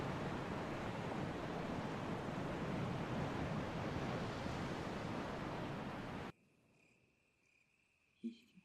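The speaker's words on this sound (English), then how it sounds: "You can hear the sound of the waterfall in the distance." A steady wash of rushing water noise from a distant waterfall in Resident Evil HD Remaster runs for several seconds, then cuts abruptly to near-silence with a faint high tone.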